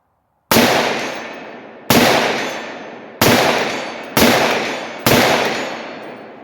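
Five loud, sharp gunshots from a 7.5 inch AR rifle chambered in 300 Blackout crack out at 100 yards, each with a short decaying echo, spaced roughly a second apart.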